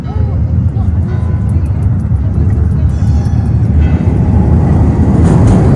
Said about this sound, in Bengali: এরকম এখানে মেট্রো যাচ্ছে